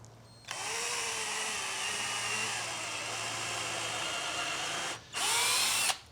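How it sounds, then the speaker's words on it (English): A power drill bores a pilot hole through a wooden fence picket for a garden trellis, one long steady whirr at close range with a brief pause before a short second burst. "Okay, drilled all the way through."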